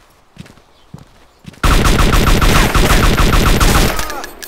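Sustained rapid automatic gunfire from the video game DayZ bursts in loud and close after a few quiet thuds, rattling continuously for over two seconds before tapering off.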